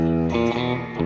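Distorted electric guitar plays an opening riff, a short burst of thick, harmonically rich notes with a few distinct note changes, loud and close with no talking.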